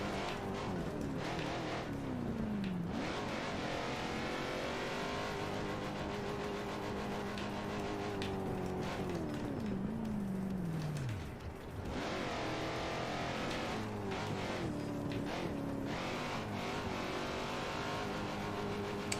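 A car engine revs continuously in a rock racing video game, a steady, loud motor drone with rising and falling pitch sweeps as the throttle changes, with no talking over it.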